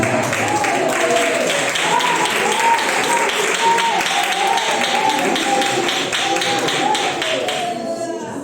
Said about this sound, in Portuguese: Por isso você dá aqui a minha salva de palmas